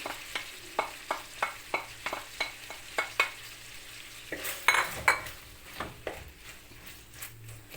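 Lamb meat and onions fry in a pan, with a steady sizzle under a regular run of stirring scrapes and clinks from a utensil, followed by a few louder knocks.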